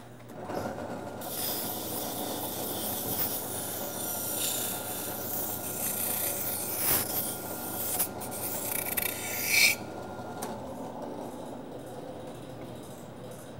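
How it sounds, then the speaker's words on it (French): A brush scrubs a wetted surface after a fire is put out, a steady close rasping rub that fades away near the end. "On mouille le tout. Un petit coup de brosse."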